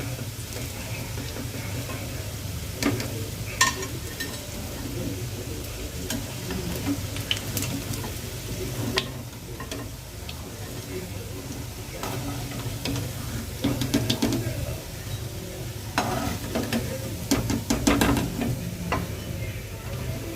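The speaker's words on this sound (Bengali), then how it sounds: "বড়াগুলো ভালো করে ভেজে নিচ্ছি, দুটো সাইড ওলট পালট করে 3-4 বার ধরে।" Hinche greens fritters deep-frying in a pan, a steady broadband sizzle of hot oil running throughout, with occasional clicks and scrapes as the fritters are turned several times.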